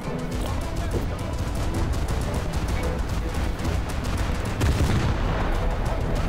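Rapid, continuous naval gunfire from ship guns in a video game battle, dense overlapping booms and cracks rattling steadily throughout, loud and close.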